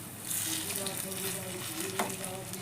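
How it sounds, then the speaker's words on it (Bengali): Kolmi greens fritters (pakora) sizzle steadily in hot oil, a continuous close frying hiss with faint clinks and no speech. "আমি বড়াগুলো এখন ভেজে নিচ্ছি"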